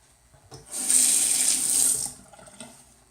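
Tap water gushes into a bathroom sink for a rinse during a wet shave, a steady hissing stream that starts abruptly, runs for about a second, then cuts off, with no talking.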